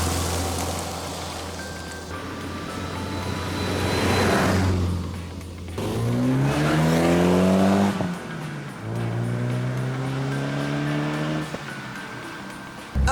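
A BMW 2002 Tii Touring race car drives past loudly, its engine rising and falling through gear changes with a hard braking moment, the revs climbing again after each lift.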